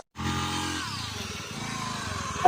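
A motorcycle engine starts close by and revs as it pulls away, a steady loud buzzing drone that shifts pitch as it rides off, with no talking.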